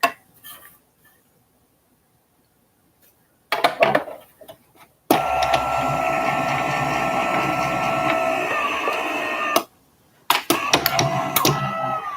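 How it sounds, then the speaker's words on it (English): Sizzix Big Shot electric die-cutting machine running, a steady loud mechanical whir that starts abruptly, runs for several seconds, stops, then starts again, with handling clatter before it. "This is a Sizzix Big Shot electric. It's an electric one."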